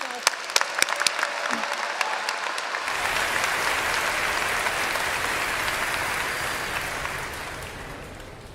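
Audience applause at an MBA commencement ceremony for Rice University's Jones Graduate School of Business, a broad sustained clapping that swells in after a few early claps and holds steady, fading slightly near the end.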